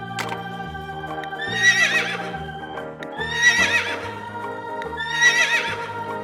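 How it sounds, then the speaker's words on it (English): A horse neighs three times in loud, shrill whinnies spaced a couple of seconds apart, over steady background music and a soft rhythmic tone. "Fantastic horse."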